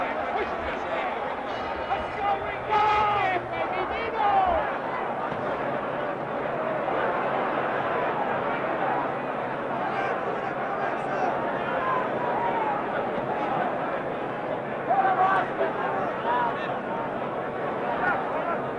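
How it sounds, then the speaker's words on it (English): Crowd at a 1970 boxing arena, Muhammad Ali vs Oscar Bonavena in round 10, roars and chatters steadily as a broad, sustained hubbub with brief swells of cheering. "And this crowd has come alive."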